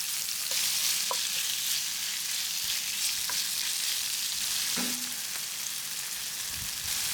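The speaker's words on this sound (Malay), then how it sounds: "Kacau goreng sekejap hingga cendawan menjadi sedikit layu." Button mushrooms stir-frying with salami and garlic in a pan: a steady, fairly quiet sizzle with occasional scrapes and clicks of the utensil, no voices.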